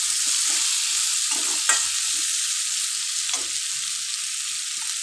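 Shrimp with bitter gourd and potato fry in a pan, giving a steady, close hiss of sizzling oil broken by a few stirring scrapes.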